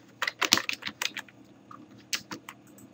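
Typing on a computer keyboard, a quick run of light clicking keystrokes, a brief pause, then a few more taps, close and fairly quiet.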